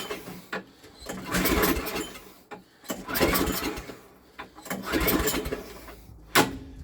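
Cold-start attempt on an engine in winter, cranking in repeated bursts of a few seconds each that sputter and never catch, with short pauses between tries; close and fairly loud.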